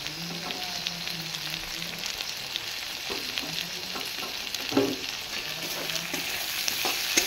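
Chopped ginger and tomato sauté in a hot pan for chicken chow mein, a steady sizzle broken by scraping stirs and a few louder clatters of the spatula, close and continuous with no voices.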